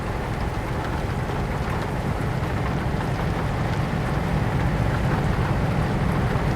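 Steady rain in the truck driving game Euro Truck Simulator 2, heard from a Volvo FH16 780 cab as a constant, dense hiss and patter that stays even throughout without any voice.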